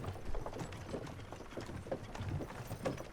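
Horses trot in Kingdom Come Deliverance 2, a soft, quiet run of rhythmic hoof clip-clops with faint mechanical creaking.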